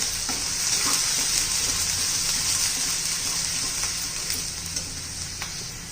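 A ground spice paste sautés in hot oil with a loud, dense, continuous hiss that eases slightly toward the end, with faint scraping from stirring underneath. No one speaks.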